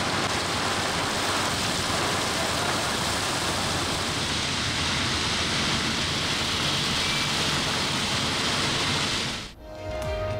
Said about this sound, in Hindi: कराची में सरमा की पहली बारिश हो गई। रात गए और सुबह सवेरे बादल बरसे।